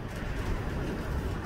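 Pigeons in a loft, older birds not yet trained, give a steady, dense murmur of low cooing and shuffling close by, continuous throughout with no voices.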